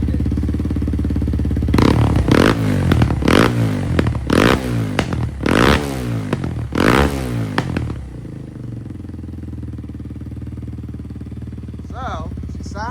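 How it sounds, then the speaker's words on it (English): Kawasaki KLX230 motorcycle with a ProCircuit full exhaust revving hard in loud repeated blips, popping and crackling on deceleration, then settling to a steady idle. "Obviously, we knew it was going to backfire"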